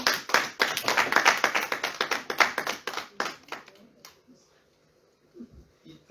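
Church congregation applauding the Word, dense rhythmic clapping for about three seconds that thins out and fades into near silence, with a few faint sounds near the end.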